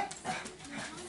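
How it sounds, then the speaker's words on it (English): Dogs inside a house bark and yip excitedly at both ends of the home; the sounds come in short bursts mixed with a soft whimper, under and between someone talking. "I don't know what our dogs are going crazy for. Okay. Barking at both ends of the house."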